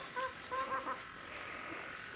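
A toy chick or rooster with a small bird voice gives two or three brief, bright chirping calls early on, followed by a soft steady background hiss with no talking.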